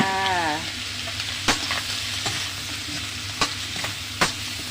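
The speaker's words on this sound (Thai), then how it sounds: "เอาผักที่หั่นไว้เทลงไปจ้า" Steady sizzling of vegetables frying in a hot pan, with a few sharp clanks of a utensil stirring and scraping, no voices.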